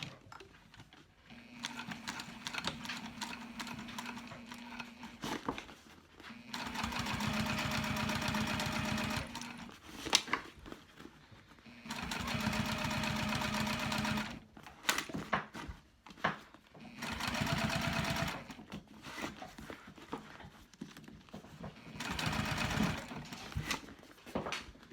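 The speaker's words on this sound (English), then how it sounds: "I'm just going to start stitching." A sewing machine stitches a seam on a Retreat Bag in a series of rapid mechanical runs lasting a few seconds each. Short pauses separate the runs, and the stitching is close and clear with no talking.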